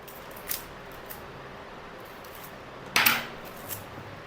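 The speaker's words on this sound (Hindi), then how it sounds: "दोबारा से मैंने सेम लेंथ की टेप काट ली" Tape is cut to length while a homemade RC plane is being built, giving one sharp close snip partway through, with a few light clicks and handling noises around it.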